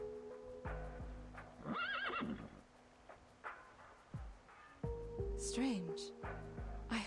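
Striped horse-like animals in the video game Reverse 1999, with two loud wavering neighs and whinnies amid clip-clopping hooves and game music, close by.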